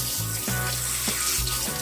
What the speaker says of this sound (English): let's go ahead and start washing this turkey